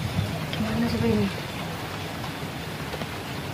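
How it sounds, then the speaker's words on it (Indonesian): Heavy rain falls in a steady, dense wash of drops outdoors while voices talk over it. "Hujan banget, lihatlah. Gerimis rapet."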